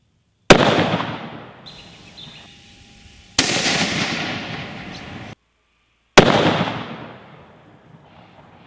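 Three loud, close rifle shots from a Bergara BA13 take-down rifle fired with warm handloads. Each sharp crack is followed by a long decaying echo, and the shots come a few seconds apart.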